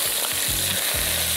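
A rabbit leg fries in a pan with a dense, steady sizzle, close and loud, with a few soft stirring or shifting knocks and no talking.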